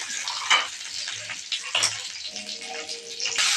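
Nuts frying in ghee for a moong dal payasam, with a steady soft sizzle and occasional stirring scrapes across a short stretch, fairly close and without talk.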